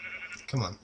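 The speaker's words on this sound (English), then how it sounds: "There's a sheep. Oh, there's some more sheep." A single short sheep bleat in Minecraft, close and clear, with a brief spoken word just before it.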